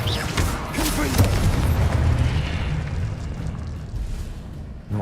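A Confringo fire-spell blast in a wizarding video game: a heavy, roaring boom that rumbles on continuously for several seconds and slowly fades.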